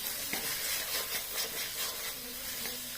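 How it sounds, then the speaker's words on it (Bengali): Spice masala frying in oil with malai, a steady close sizzle and hiss with a few soft stirring scrapes throughout. "এখন কিন্তু মশলাটাও ভেজেছি ওই মালাই দিয়ে"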